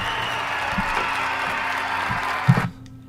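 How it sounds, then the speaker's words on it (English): A recorded crowd cheering and applauding plays steadily at moderate volume, with a few dull thumps near the end before it cuts off abruptly. "I do have a cheer somewhere."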